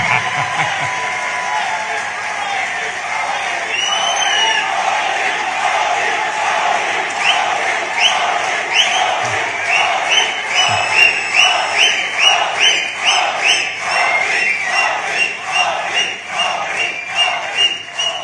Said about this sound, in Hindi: आपने ताली तो बजा दी